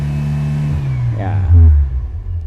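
A car engine running on an LPG gas conversion settles from a brief rev into a steady idle, a low continuous hum close by with a short rise in the middle.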